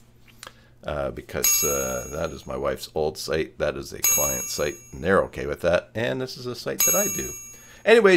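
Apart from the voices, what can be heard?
notification bell ringing as Joomla sites get updated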